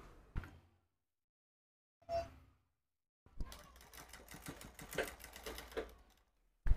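A sewing machine stitches the lower side of a blouse seam along marked lines, running in a dense rapid burst of needle clatter for about three seconds after two short isolated knocks, close and fairly quiet.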